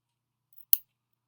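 Scissors make a single sharp snip through a rubber glove, with a faint click just before it, close and isolated against silence.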